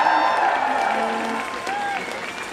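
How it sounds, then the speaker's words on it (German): Audience at a Fridays for Future event applauds a speaker onto the stage, a dense steady clapping with crowd noise, while voices talk over it. "Ein riesen Applaus."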